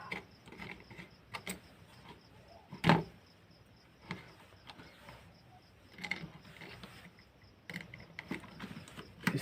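A screwdriver tightens a screw on the neutral terminal of a socket in a switchboard wiring job. Quiet, close clicks and ratcheting scrapes come in irregular bursts, with one sharper knock near the start.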